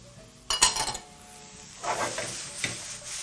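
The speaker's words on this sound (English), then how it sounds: "Proceed to toss in the pan." Chicken stir-fried rice with julienned snow peas tossed in a pan: a few metallic scrapes and clinks of the pan with a soft sizzle between them, close and moderately loud.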